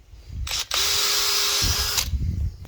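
A power drill whines steadily for about a second and a half while it bores a pilot hole through a uPVC window sill pressed against the frame. A short start burst comes first and the motor cuts off cleanly at the end, close and loud.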